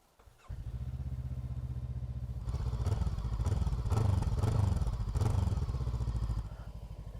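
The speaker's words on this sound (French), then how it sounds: "Allez, je la démarre." A Voge 500R motorcycle with twin front discs starts up after a brief quiet moment, its engine catching and settling into a steady, loud idle with a few rising revs, close by and with no one talking.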